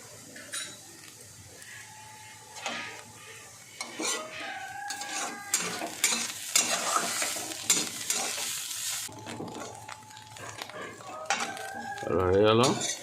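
Banana stem stir-fried with mustard seeds in a pan, with repeated scraping and stirring clatter over a steady sizzle, growing busier toward the end.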